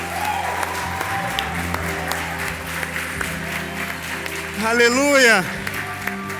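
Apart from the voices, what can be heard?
applause in church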